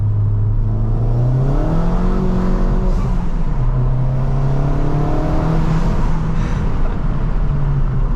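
A Ford Fiesta ST200 engine with a Revo Stage 2 tune revs and accelerates loudly, heard with the window down, its drone climbing and shifting pitch through gears, with steady road and wind roar throughout.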